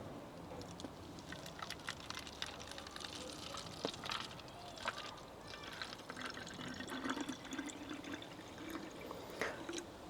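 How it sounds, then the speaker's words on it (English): Homemade liquid ivy soap poured from a container into an empty plastic pop bottle, a steady bubbling trickle with gurgles and splashes, fairly quiet and continuous throughout. "I'm going to decant this into an empty pop bottle"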